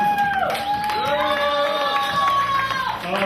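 Crowd at a metal concert in a club cheers and claps, a loud burst of whoops and shouting over applause that holds through the short stretch.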